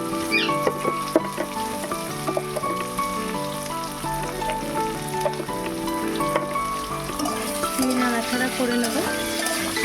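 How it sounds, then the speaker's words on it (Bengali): Steady, close sizzling of potatoes frying in hot oil, continuous for the whole stretch with occasional crackles and stirring. "আলুগুলো প্রায় ভাজা হয়ে গেছে"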